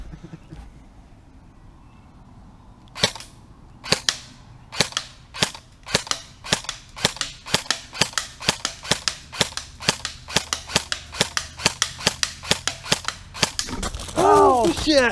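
An airsoft gun fires BBs in a long run of sharp, snappy cracks, at first spaced out, then coming in a quick steady rhythm of roughly two or three shots a second, loud and close, with brief voices at the end.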